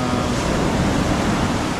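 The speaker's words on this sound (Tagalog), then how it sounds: "Kaya napakalakas ng mga alon dito ngayon" Strong storm-driven ocean waves crash and wash constantly at a beach in Anini-y, Antique, Philippines, loud and close, forming a dense roar of surf with wind buffeting the microphone and no one speaking.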